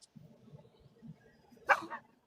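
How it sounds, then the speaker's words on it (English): A dog gives one short, sharp bark near the end, preceded by low faint grumbling or whimpering sounds, fairly quiet and close. "Can you stop barking and get in this house?"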